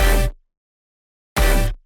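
Two loud layered vocal stabs from a melodic drum and bass drop, each a short, bright, dense chopped burst with heavy low end, about a second and a half apart with silence between.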